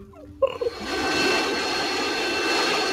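A Roblox video-game airplane gives a steady, loud whooshing roar that starts abruptly after a brief clatter and holds evenly to the end, with no voices.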